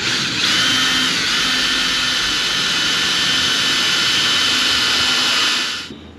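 A power drill fitted with a starter bit bores into a center-punched hole while setting a rivet nut, a loud steady high whine that holds for about five seconds before winding down, with no talk.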